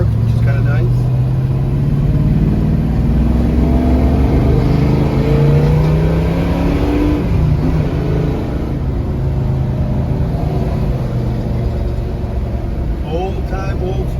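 A 1967 Chevrolet Chevelle V8 drives along, its loud engine rising and falling through revs in a throaty rumble, with people talking intermittently over it.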